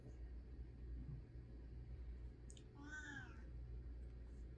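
A cat gives a single short meow partway through, fairly faint over a steady low rumble of background noise.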